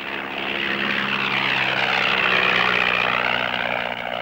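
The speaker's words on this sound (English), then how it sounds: "Flying his own aircraft from a bush strip near his camp, Ian" Light propeller aircraft flown from a bush strip near a camp, a loud, steady droning engine with a slowly shifting pitch as it passes close by.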